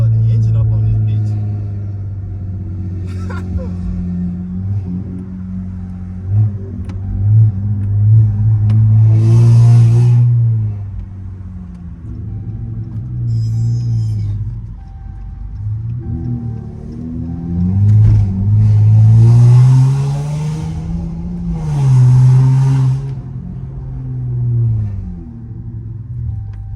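Dodge Scat Pack engine rumbling and revving in surges on a city street at night, loud and close, with someone talking over it.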